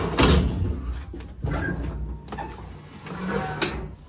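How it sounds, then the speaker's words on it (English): Bilco steel cellar doors at a backyard pool being opened, with heavy metallic clunks and creaks, a scrape midway and a final bang, close and alone without talk. "Open the Bilco doors here."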